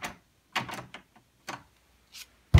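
A door mechanism responding to an Alexa command produces a series of irregular clicks, clacks and short mechanical rattles, ending in a louder thump, with quiet gaps between and no talk.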